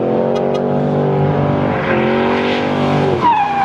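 A car engine roars under load while tires squeal continuously, as if sliding through a drift, loud and close, ending with a rising screech.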